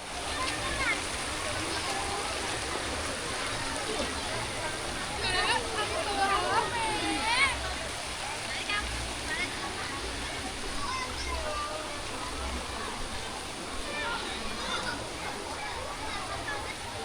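A river at an ecopark in Sleman, Yogyakarta streams and splashes continuously at moderate distance, a soft steady wash of flowing water with faint voices in the background.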